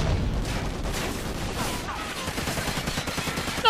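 Dense, continuous gunfire and explosions fill a Call of Duty: Ghosts multiplayer match, busy and layered with no clear gaps between shots.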